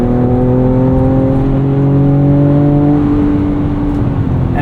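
Tuned 2024 Ford Ranger Raptor engine pulling hard while driving, a steady loud drone with a smoothly rising pitch heard from inside the cabin, no voices.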